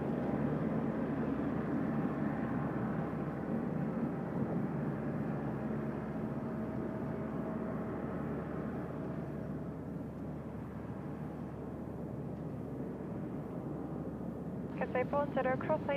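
Boeing 767 jet on its takeoff roll at Incheon Airport, a steady broad roar that holds through the clip and eases slightly midway, with people talking over it.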